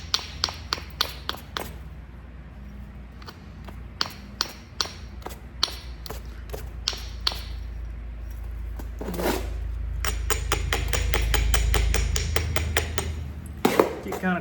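Alabama coastal stone knapped into a biface, with sharp ringing strikes landing in irregular bursts, some quick runs of taps, close and crisp against a low steady background hum.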